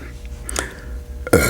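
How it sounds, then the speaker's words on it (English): A short, close burp from someone drinking Coke during a birria taco meal, with soft mouth noises before it and a louder broadband burst near the end. "The Coke be giving me the burps."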